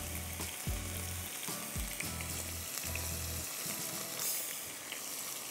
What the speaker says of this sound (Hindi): थोड़ा सा हमने इसको फ्राई किया